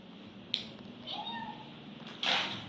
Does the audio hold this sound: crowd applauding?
no